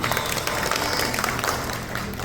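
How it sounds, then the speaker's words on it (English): Audience applause at a community gathering, a dense, loud, continuous wash of clapping that fades slightly toward the end. "Let us give them a round of applause."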